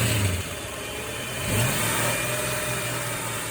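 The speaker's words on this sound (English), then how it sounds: "Give it some RPM." Engine of a 1967 Ford Mustang, running in a garage, revving up from a steady idle with a rise in pitch and loudness midway, then holding at raised RPM; close and continuous.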